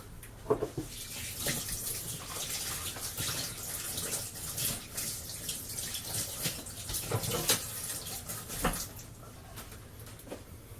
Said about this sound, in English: Just going to wash my hands again.